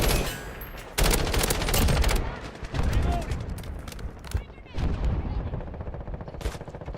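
Rapid bursts of video game gunfire from a weapon with heavy recoil, loud and close, coming in several sustained volleys with short breaks between them.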